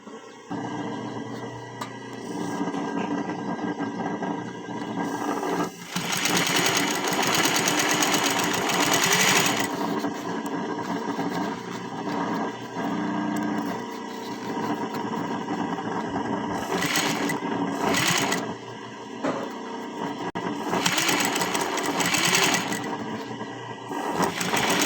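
Sewing machine stitching fabric for a sofa set, a loud close mechanical whir that runs in long bursts, starts and stops, with brief pauses between seams.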